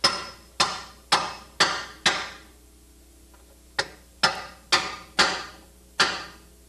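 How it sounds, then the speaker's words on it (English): Hammer striking a steel drift to reseat the control arm studs on a car's front end: ten sharp metallic blows, five evenly spaced, a pause, then five more, close and alone. "Now we can reseat them into their mount with a drift and a hammer."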